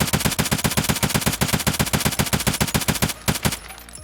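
Rapid automatic fire from an STM-9 9mm carbine in the shooter game Escape From Tarkov: a loud, tightly spaced burst of shots lasting about three seconds, then a brief pause and a couple more rounds, with no talking.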